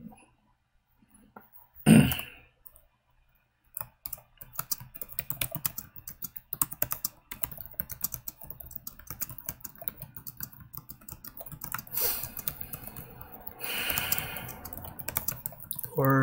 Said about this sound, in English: I'll continue typing and then I'll switch over.